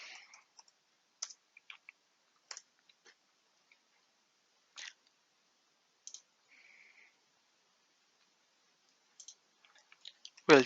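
Faint, sparse key clicks from a computer keyboard, short isolated taps and small bursts scattered over quiet silence, ending with a louder thump.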